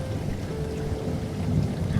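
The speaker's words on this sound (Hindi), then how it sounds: "उन दोनों ने देखा कि बारिश बहुत ही ज़्यादा बढ़ गई है" Heavy rain with thunder, a dense steady roar of downpour that never lets up, with a low rumbling underneath, loud and close, no voices.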